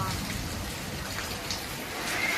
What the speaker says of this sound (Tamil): இடி இருக்கு, மின்னல் இருக்கு, காற்று இருக்கு, மழை இருக்கு, எல்லாமே இருக்குப்பா.